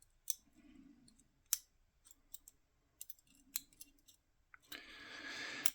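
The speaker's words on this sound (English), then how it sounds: "There we go, nice click on the back lever." A lever padlock, a Bulldog or Sentinel, being picked: sharp isolated metallic clicks of the lever spaced irregularly, close and quiet, ending in a brief scraping rattle.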